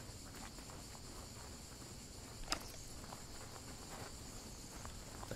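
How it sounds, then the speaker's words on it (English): Cicadas chirp outdoors in the survival game SCUM, a continuous high, droning buzz that holds steady throughout, with a single short click partway through and no talking. "Cicadas."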